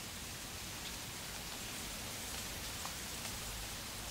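Recorded rain plays on a loop as steady, dense hiss with soft patter of drops, continuous and even throughout with no voices.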